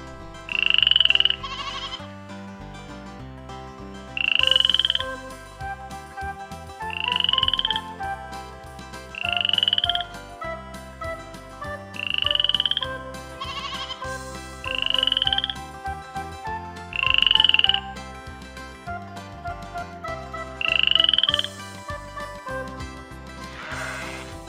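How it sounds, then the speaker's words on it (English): A frog croaking in repeated loud, rasping bursts at regular intervals of about two to three seconds, close and clear over a steady musical backing. "Frog."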